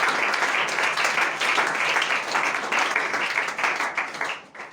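A church congregation applauds to acclaim the Lord, with steady dense clapping from many hands that holds for several seconds and then thins out and fades at the end.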